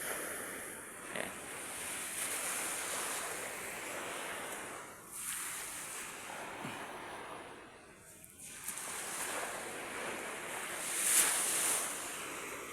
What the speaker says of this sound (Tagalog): hindi po siya masyadong malakas yung alon